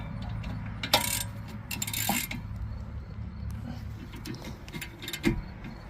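A hex key works the brake caliper bolts loose on a 2005 Chrysler Town and Country, producing sharp metallic clicks and clinks at close range over a low background hum.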